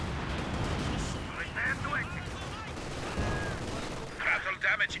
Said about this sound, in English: I'm firing my mortar, sorry, my Panzerwerfer 2 on the mortar pit